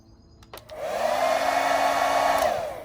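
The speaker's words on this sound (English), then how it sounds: "I'm using my girlfriend's hairdryer." Handheld hair dryer switched on to warm the nitro engine of an HPI Savage X 4.6 RC truck, a loud steady blowing whir that rises after a click and runs evenly before starting to fade.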